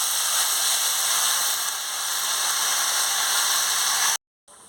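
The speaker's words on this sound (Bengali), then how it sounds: "এবারে ঘর ঘর করে ফুটে গেছে।" Fish curry with malabar spinach and bata fish at a rolling boil in a pot in a village kitchen, a steady dense bubbling hiss close by with no voices, cutting off abruptly near the end.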